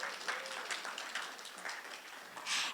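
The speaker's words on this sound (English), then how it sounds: "let's give them a round of applause for breakfast this morning." Audience applause in a gathering hall after a breakfast served by a Haiti twinning mission group, a steady spread of clapping at moderate level that swells louder near the end.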